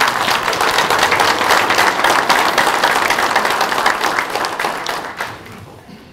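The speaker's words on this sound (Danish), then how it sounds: "Så kunne I godt komme med et bifald på det." Audience at a Danish farmers' general assembly breaks into steady, dense applause with many hands clapping at once, holding strong for about five seconds before tapering off near the end.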